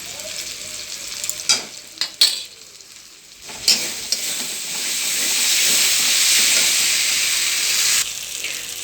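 Spice masala for a mackerel curry fries in a pan: a few stirring knocks and clatters come first, then the sizzle grows into a loud, steady hiss that runs until it drops near the end.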